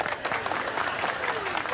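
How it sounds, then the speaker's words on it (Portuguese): An audience bursts into dense, continuous clapping at a comedy show, a loud, close wall of applause lasting a couple of seconds. "Pessoal, uma salva de palmas pro cidadão."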